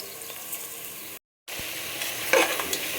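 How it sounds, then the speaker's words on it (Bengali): Meat with turmeric, chili, cumin and coriander powders frying in a pan, a steady close sizzle with a short silent gap and then stirring scrapes before the hiss resumes. "এই তো আমি এখানে মাংসটা কষিয়ে নিচ্ছি"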